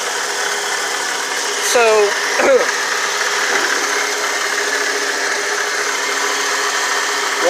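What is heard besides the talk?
Ford engine idling and warming up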